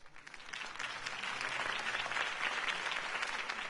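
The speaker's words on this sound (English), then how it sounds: "If only Mr. Wayne, my campaign's largest backer, could have heard that applause" Crowd applause breaking out after a mayoral campaign speech in Batman: The Telltale Series, a dense, steady wash of many hands clapping at moderate level throughout, with no talking over it.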